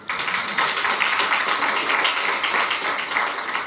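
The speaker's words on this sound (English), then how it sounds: "I'll pause there as I wait for the clap." An audience applauds at a corporate half-year results presentation, a steady, even patter of many hands clapping at once, sustained throughout without a break, with no talking over it.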